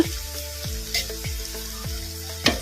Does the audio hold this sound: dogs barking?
no